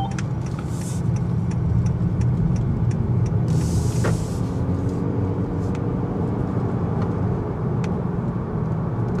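A new Honda Accord cruises at about 60 km/h behind another car on adaptive cruise control, giving a steady, muted low road and engine hum inside the cabin with faint passing clicks.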